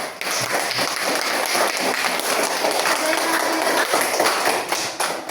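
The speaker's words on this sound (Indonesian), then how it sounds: "Oke, tepuk tangan dulu." A classroom group applauding during a civics lesson, giving a brief burst of dense, fairly close hand-clapping that holds steady for several seconds.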